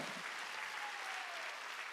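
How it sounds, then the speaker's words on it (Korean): Applause from a church congregation during a Wednesday worship service, a steady dense wash of many hands clapping throughout, fairly distant and even in level, with no voices over it. "박수야."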